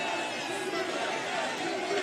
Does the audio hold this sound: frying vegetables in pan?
no